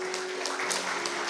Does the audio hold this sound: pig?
no